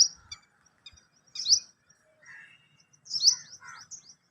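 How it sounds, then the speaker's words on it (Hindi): Morning birds chirp and tweet nearby in a few quick, bright bursts separated by brief silences, with no other noise around them. "और परिंदों के चहचहाने की आवाज़ें हैं जी।"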